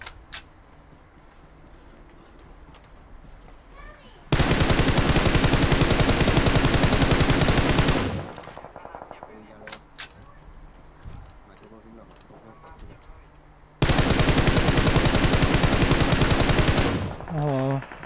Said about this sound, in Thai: ยิงกันใหญ่แล้วเนี่ย